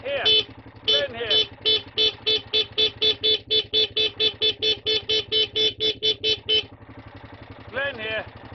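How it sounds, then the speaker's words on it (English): A car horn honks in a long run of short, evenly spaced toots to drive sheep along a farm road, with a man calling a sheepdog in the background and an idling engine underneath. "we're going to have to use the horn a bit"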